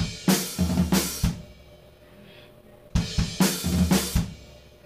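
A hand-played drum pattern on floor tom and snare repeats twice: deep tom thuds followed by bright snare cracks and cymbal wash, close and punchy, with a short quiet gap between the two phrases and no talking.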